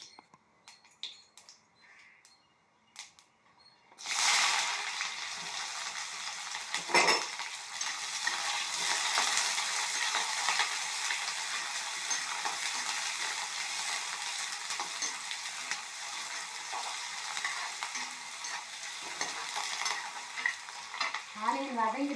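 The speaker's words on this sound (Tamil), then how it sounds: "வெங்காயம் போட்டு வதக்கணும்." Sliced onions dropped into hot oil with popped mustard seeds burst into a loud, sustained sizzle after a few quiet seconds, with occasional spatula scrapes and stirring clatter against the pan; no one speaks.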